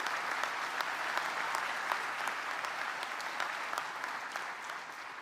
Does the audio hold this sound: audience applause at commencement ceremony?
yes